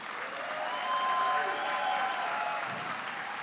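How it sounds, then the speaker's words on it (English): A large crowd at a presidential speech in Syracuse applauds in a steady, full-bodied roar of clapping that swells slightly in the middle, with faint cheering mixed in and no talk. "a round of applause again for Shawnee Davis,"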